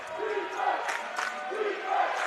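Fairly faint college basketball crowd cheering and shouting after a block and finish in a conference championship game, with rising whoops and yells in short bursts over a hall murmur.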